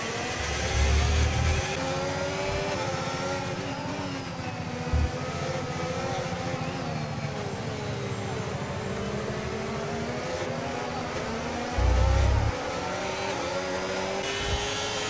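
A Formula 1 car engine in the video game F1 2025 screams steadily at high revs, a continuous whine with shifting pitch and a few brief low thumps.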